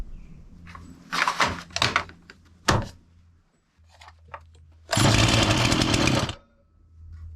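Farmertec MS361 chainsaw on full choke during a bottom-end rebuild test: several sharp pull-cord rasps and knocks, then the engine briefly catches with a loud, rough roar for about a second before dying.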